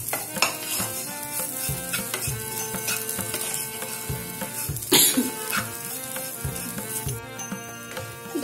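Bitter gourd (karela) stir-fries in a pan, with repeated spatula scrapes and clinks over a soft sizzle and background music.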